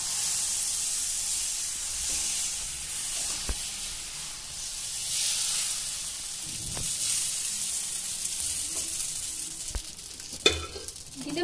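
Masala dosa batter sizzles on a hot pan with a steady, close hiss, punctuated by a few sharp clicks and scrapes of utensils against the pan.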